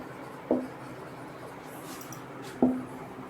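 Two short, sharp taps of writing on a board during a physics lecture, spaced about two seconds apart over quiet room tone, with no talking between them.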